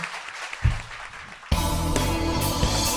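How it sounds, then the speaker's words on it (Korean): A studio audience claps briefly in a loose, thin burst, and then a loud music sting cuts in and covers the rest. "오늘 박수 부탁드립니다."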